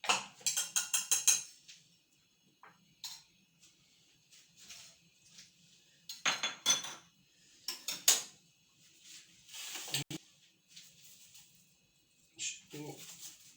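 Whisk or spoon clattering rapidly in a pot as squeezed-out gelatin is stirred until it dissolves for a cheesecake, close bursts of quick metallic rattling broken by short pauses.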